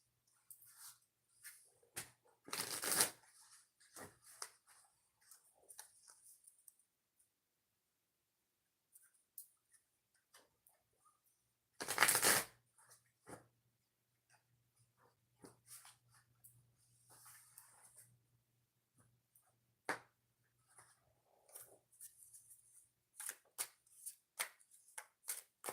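Two quick riffle shuffles of tarot cards stand out in a quiet room, separated by scattered soft clicks, taps and handling noises.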